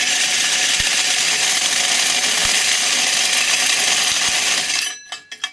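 A drill cutting a hole through a steel ammo can for a double burner rocket stove, a steady loud broadband grinding roar lasting about five seconds, then stopping abruptly with a few short metallic rattles after.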